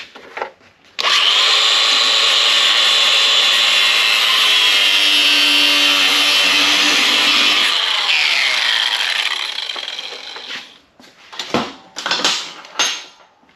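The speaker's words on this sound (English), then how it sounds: "It's called a cutoff wheel." A cutoff wheel grinds through metal floor supports on a rat rod, a loud, close, sustained high-pitched screech for about seven seconds that winds down, followed by several short bursts of cutting.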